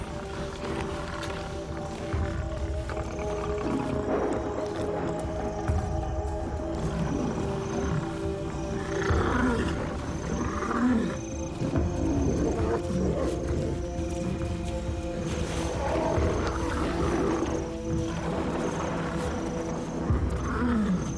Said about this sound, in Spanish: Su furia y sus rugidos ahuyentan a 2 de los machos.